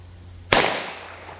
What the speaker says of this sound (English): That one hit the plywood.